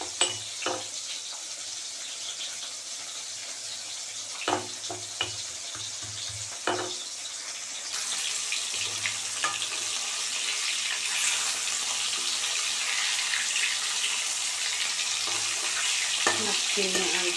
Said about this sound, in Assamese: মাছখিনি আলুখিনি লুটিয়াই দিলোঁ। এপিঠি ভাজা লগা হৈ গ'ল আৰু এপিঠি ভাজা লাগিলে মাছখিনি উলিয়াই ল'ম।